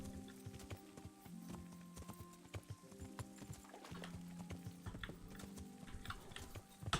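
Rapid horse hooves clip-clop steadily on a hard surface in the video game Kingdom Come: Deliverance, close and continuous, over a faint background drone, with no talking.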